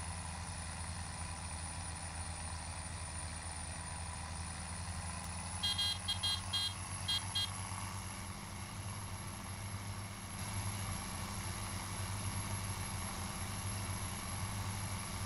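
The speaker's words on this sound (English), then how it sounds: "We're gonna move this tractor down to where the hell field I was at." A low, steady tractor engine hum drones on in Farming Simulator 17 as the tractor drives toward a field past a mud pit, with a brief cluster of clicking tones in the middle and no talk.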